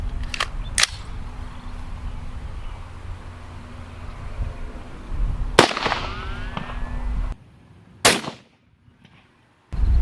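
An AR-15 rifle in .223 fires dragon's breath rounds at body armor. Several sharp, loud cracks are spread across the clip, each followed by a brief ringing decay.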